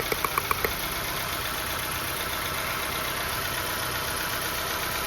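A Nissan Pulsar engine idles steadily up close with new ignition coils and a new spark plug, an even continuous hum with a few light ticks at the start.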